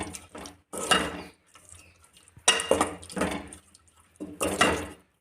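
Tomato chutney stirred with a metal spoon in a pan, making three distinct bursts of scraping and clinking against the metal, close and clear, separated by brief quiet gaps.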